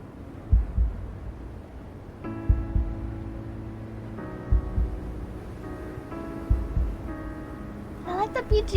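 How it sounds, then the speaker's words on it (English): In the video game Wuthering Waves, a low, slow heartbeat thumps at a steady rhythm under game music, with a voice talking over it. "Then we can hear the heartbeat."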